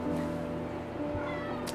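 Cats meow in an animal shelter's cat room, a brief high cry rising near the end over a busy background hum and murmur.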